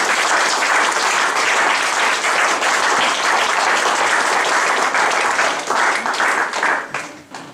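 A church congregation applauds at a baptism service, with loud sustained clapping from a large crowd filling the room and tapering off near the end.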